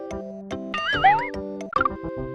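A cartoon cat meows in a children's letters video game, Mario's Early Years Fun With Letters. It gives one drawn-out, wavering meow over steady electronic game tones, with a short chirpy sound near the end.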